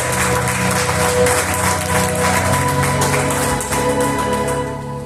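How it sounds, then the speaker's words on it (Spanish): A congregation at a church service claps loudly and continuously under sustained music-like tones, the applause thinning and trailing off in the last second. "Vamos a dar un fuerte aplauso a eso, aleluya."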